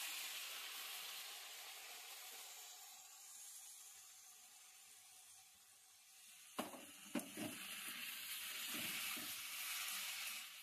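Onion, tomato, potato and drumstick frying together in a pan: a steady, soft sizzling hiss throughout, with a few brief clatters of added ingredients or stirring partway through.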